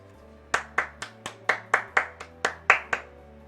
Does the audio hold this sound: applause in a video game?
yes